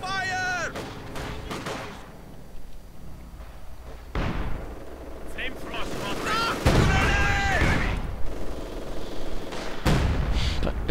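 Artillery fire in a strategy video game: several heavy broadband blasts land a few seconds apart, with explosive crumps under a continuous voice talking over the battle.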